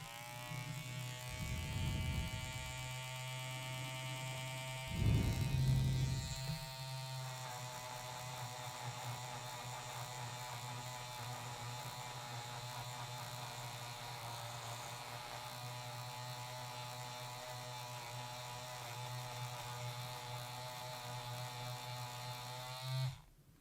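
An electric stitch eraser buzzes steadily as its teeth scratch out embroidery thread and bobbin thread, a continuous whirring hum with a couple of louder bursts near the start, running alone without talk.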